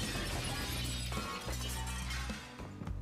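Glass shatters in the video game Watch Dogs 2 inside a car and bike showroom, a single loud crash that scatters into a dense, ringing spray of shards and lasts about three seconds.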